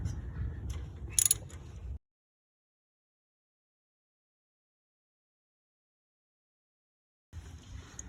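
A 10 mm socket on a ratchet loosens the bolt holding the ABS cable to the rear strut of a 2012–2017 Toyota Camry, giving a brief burst of close metallic ratchet clicks before a long silence.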